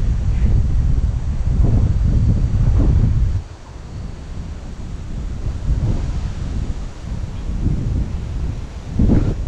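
Strong wind buffets a hilltop in a forested area near Nedunkeni, roaring loudly against the microphone in heavy gusts, dropping briefly midway before surging again.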